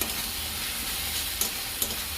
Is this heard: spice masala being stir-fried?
yes